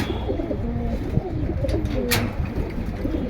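Pigeons cooing at a busy pigeon market in Keraniganj, low soft coos from several birds overlapping under murmured crowd noise, with a brief sharp rustle.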